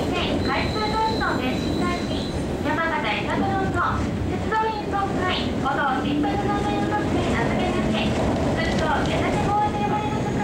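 Diesel railcar on the Isaburo scenic line in Kyushu, a continuous loud rumble of engine and rolling wheels with rhythmic clicks and faint squeals, under a voice talking throughout.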